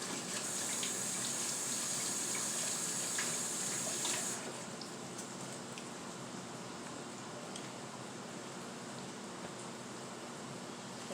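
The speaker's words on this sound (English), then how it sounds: "Wash my hands off." A kitchen tap runs steadily while hands are washed during cooking, a continuous splashing stream that softens and changes tone partway through.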